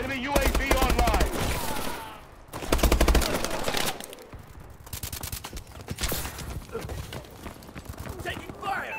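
Rapid gunfire in a first-person shooter match, dense automatic bursts and sharp cracks layered with game sound effects and voiced announcements, loud and close with short lulls.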